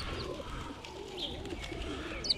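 Small birds in central Madrid, fed daily, give faint chirps and soft calls over a low, steady urban hum, with one brief sharper peep near the end.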